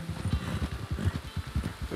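Rapid, rhythmic hoofbeats of a horse in the video game Red Dead Online clip-clopping close by, repeating steadily throughout.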